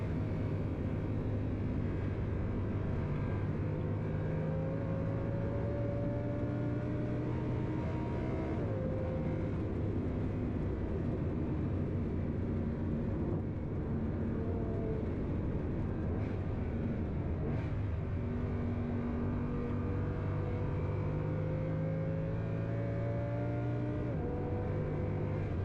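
An Audi R8 runs hard around the Nürburgring, its engine droning steadily with rising and falling pitch sweeps as it accelerates and shifts, a continuous moderate roar throughout.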